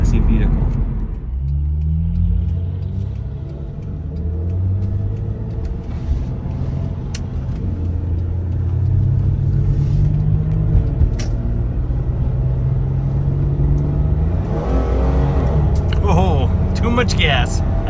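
A 1992 Nissan 300ZX engine revs while driving, a loud rising and falling drone with deep rumble that climbs sharply near the end, with someone talking over it throughout.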